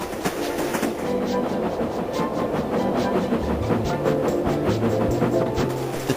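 A train rolls along the rails with a steady rhythmic clatter of wheels over track joints, moderately loud and continuous.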